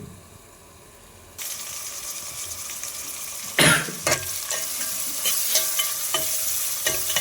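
Green chillies and onions frying in a generous amount of oil for a spicy chicken curry. A quiet start gives way to a loud, steady sizzle with a sharp burst midway, then stirring scrapes over continuous crackling.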